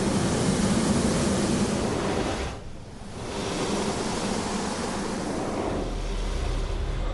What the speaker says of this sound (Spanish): una especie de altavoces por los que emergía el bramido tronador del agua